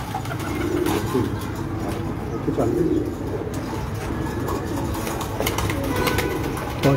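Soft Lal Pari pigeon cooing repeats in low bursts against a steady background hum, with an engine-like drone running throughout, on a rooftop in Gujranwala.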